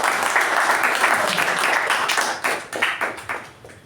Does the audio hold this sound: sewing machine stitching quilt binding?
no